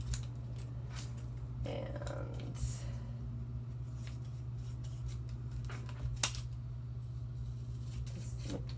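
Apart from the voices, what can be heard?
scissors cutting paper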